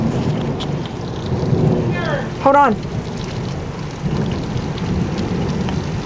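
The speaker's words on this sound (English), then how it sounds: "It's thundering." Rolling thunder rumbles through a rainstorm with steady rain hissing underneath, loud and close, while a person speaks briefly over the storm.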